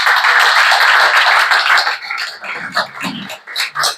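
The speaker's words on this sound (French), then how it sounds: "Vous pouvez les applaudir." Audience applause for guests arriving at a French evening book event, a dense, loud clapping roar for about two seconds that then breaks into scattered, fading claps.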